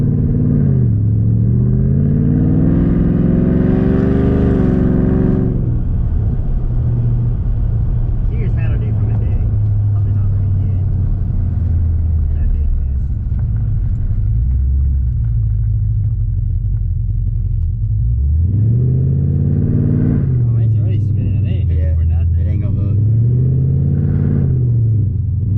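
Whipple-supercharged 2018 GT accelerating hard on a fresh tune, loud engine roar rising through the gears at the start and again near the end, with steady engine rumble between and people talking and whooping in the car.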